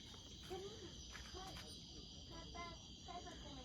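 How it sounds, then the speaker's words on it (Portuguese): Crickets chirp at night in the countryside, a steady, continuous high chirring that fills the background from start to end, with soft low rustling and faint, indistinct movement beneath it. "Só as zoadinhas dos grilos, tá vendo?"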